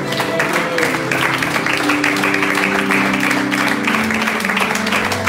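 A church congregation claps and cheers continuously and loudly during a French-language worship service, with music and singing carrying underneath the dense applause.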